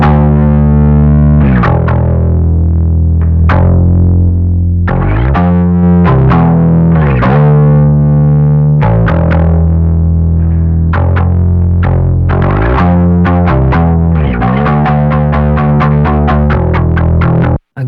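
Bass guitar run through Decapitator saturation with drive at about 3, giving a thick, warm low end. A continuous, loud bass line plays alone, with a busy rhythm of plucked notes and no talk.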